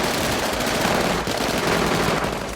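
Machine gun fire in a film shootout at a house, a dense continuous rattle of rapid automatic shots, loud and unbroken throughout.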